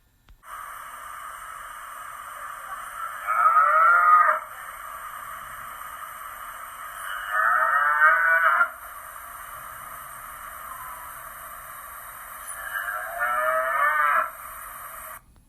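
Cows moo three times in drawn-out, evenly spaced calls of about a second each, standing out over a faint steady background hum.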